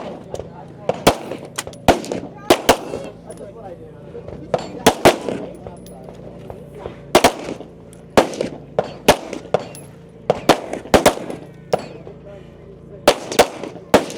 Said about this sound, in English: now at the firing line for her final sequence